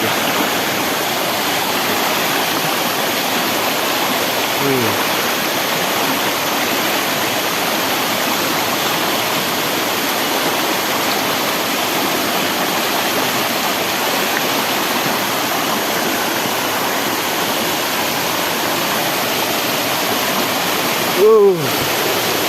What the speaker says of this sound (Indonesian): Oh, ini waterfall atau curug.